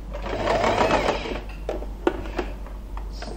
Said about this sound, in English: lift up the presser foot and continue sewing so we can have a nice straight line.